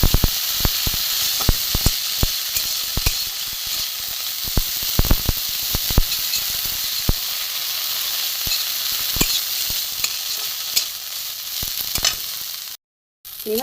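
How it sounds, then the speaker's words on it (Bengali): Washed neem flowers fry in hot oil, giving a loud, steady sizzle with scattered pops and crackles that runs throughout and briefly cuts out near the end. "ফুলটা একটু লাল করে ভেজে নেবো বন্ধুরা"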